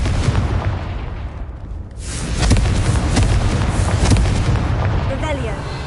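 Confringo fire-blast spell from a Harry Potter video game, heavy booming explosions with a crackling roar of debris, loud and dense, swelling after a brief dip, with a voice briefly audible near the end.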